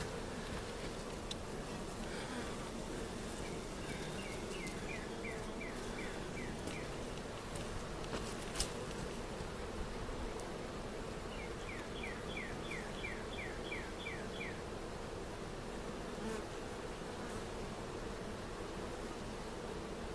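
Honey bees hum steadily around an open hive with drawn brood and honey frames, a faint continuous buzz under soft outdoor background noise, with a few brief bird chirps.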